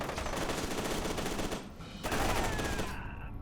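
Rapid automatic gunfire rattles continuously in the shooter game F.E.A.R 2, a dense loud burst that dips briefly midway, resumes, then cuts off near the end.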